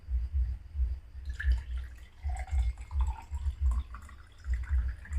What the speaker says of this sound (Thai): คุณครูจะเทน้ำใส่ลงไปในแก้ว ให้เต็มแก้วเลยนะคะ